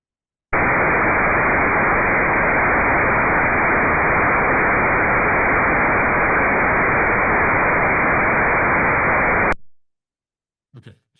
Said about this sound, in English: now you can hear that it sounds like white noise, right? It doesn't sound like individual clicks.